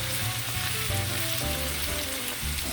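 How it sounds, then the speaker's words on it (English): Shredded pernil pork shoulder and vegetables sauteing in hot oil in a pan, giving a steady, close sizzling crackle with some stirring and no talking. "Now that it's been sauteing for a minute, we're going to add our tomatoes and our tomato paste."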